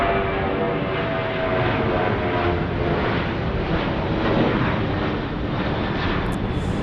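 An Embraer E135 regional jet at Phoenix Sky Harbor airport gives off a steady, broadband engine roar that holds at an even loudness throughout, with no voices.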